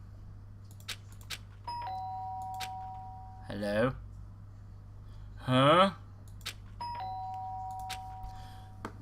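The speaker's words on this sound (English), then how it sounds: "The sharp sound of the doorbell pierced my sleepy haze" A two-tone doorbell from the game Danganronpa Trigger Happy Havoc, played in Rec Room, chimes twice at moderate volume, with short spoken exclamations between the rings over a low steady hum.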